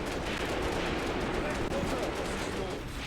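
A DShK heavy machine gun keeps firing in the war game Graviteam Tactics, heard as a sustained, dense roar of heavy fire and battle noise that fills the whole stretch without any letup.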